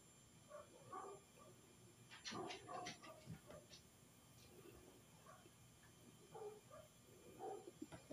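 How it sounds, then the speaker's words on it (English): A dog next door barking and yipping in short bursts with a few whimpers, distant and muffled indoors against a quiet room hum. "Because Jake is barking, and so they're probably at the house right next door to Jake"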